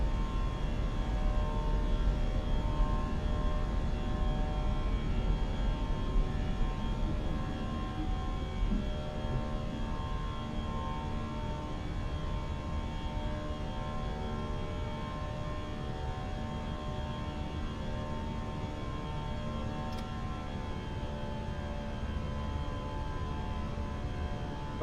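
A British Airways A319 climbing out after takeoff in a flight simulator, with a steady, even engine drone and hum holding at constant loudness throughout and no voices.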